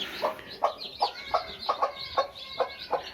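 A young country hen in a brooder clucks in a steady series of short, rhythmic calls, about ten in three seconds, with faint high peeping from chicks underneath, close by.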